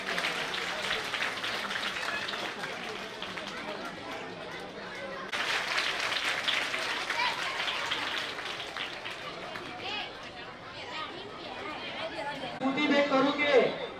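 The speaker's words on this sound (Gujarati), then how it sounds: "હવે સાહેબ આપણે તાળીઓથી વધાવતા રહીશું" Audience applause welcoming a guest being presented with a gold chain as a gift at a ceremony, a steady wash of clapping and crowd chatter throughout, swelling louder near the end.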